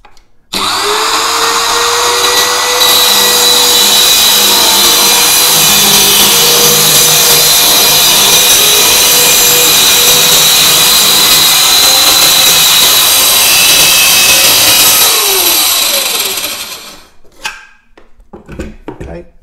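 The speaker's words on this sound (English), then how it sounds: "just plunge in just before your line or your saw cut" A plunge saw cuts through a floorboard just before the line, taking away the tongue. It gives a loud, steady, close-up power-tool whine for about fifteen seconds, then stops, followed by a few faint handling knocks.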